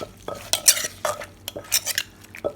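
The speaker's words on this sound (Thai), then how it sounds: "จากนั้นเราก็ตำค่ะ" Papaya salad with crab and fermented fish sauce is pounded in a small mortar, giving a quick series of close, clacking, scraping knocks at an uneven rhythm, alone with no talk.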